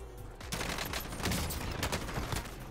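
Rapid, dense gunfire crackles and bursts in the Warzone video game, close and loud, with a quick burst of several shots carrying on throughout.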